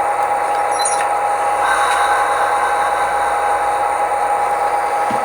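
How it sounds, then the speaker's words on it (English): A Tsunami2 diesel decoder's prime mover settles down to idle, a steady, continuous engine drone with a faint hiss and a brief higher tone near the start, running evenly throughout with no talking. "And then our prime mover will drop down to idle."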